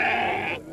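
A sheep bleats once at a sacrificial livestock market, a loud, close, sustained wavering cry lasting most of a second before cutting off abruptly into background noise.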